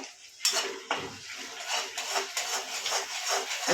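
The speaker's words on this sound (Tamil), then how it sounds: "அந்த கத்திரிக்காய் அது வரைக்குமே நல்லா மிக்ஸ் பண்ணி விடுறோம்" Eggplant being stirred in oil in a metal pan for a Tamil eggplant mandi, with sharp scraping clatters of the spoon against the pan at irregular intervals, close up and fairly loud.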